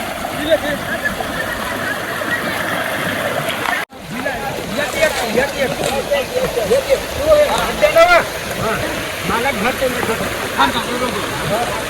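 Flooded stream with water rushing and splashing loudly and continuously, a brief dropout partway through, while people talk over the roar.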